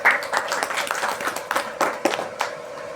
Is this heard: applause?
yes